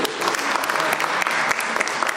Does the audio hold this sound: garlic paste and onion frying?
no